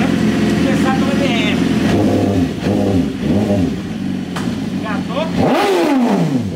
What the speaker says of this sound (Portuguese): vamos dar um rolê com essa moto então